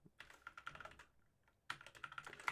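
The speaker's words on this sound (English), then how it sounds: "So I can build my JQL statement just by typing on my keyboard, which is pretty cool." Rapid typing on a computer keyboard while entering a JQL search query, a dense run of close, crisp keystrokes that stops for about half a second and then resumes at the same quick pace.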